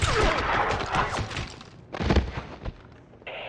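Gunfire from the video game James Bond 007 Blood Stone: a dense, loud barrage of shots and impacts, a second burst of fire following a brief lull, with a thud near the end.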